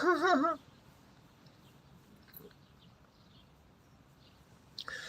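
Dog whining after losing its ball, a short, wavering high whimper at the start, fairly close and clear, followed by quiet room noise and a faint brief sound near the end.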